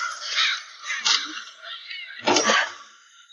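A crow in a tree gives harsh, close caws. Three loud calls come at uneven intervals, with the last one the strongest.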